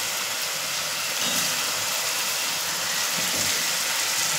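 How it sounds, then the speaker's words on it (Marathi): Eggplant sautéing in hot oil, a steady broadband hiss of sizzling that holds nearly constant and close for several seconds, with faint occasional clinks. "ही पण आपण तेलावर परतून घेतोय"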